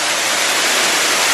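Steady, dense rush of water from a small hidden waterfall, close and loud with an even hiss and no other sounds.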